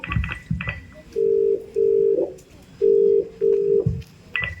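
Telephone ringback tones beep in steady, evenly spaced bursts, four long tones in two pairs, with faint background noise between them, the call going unanswered.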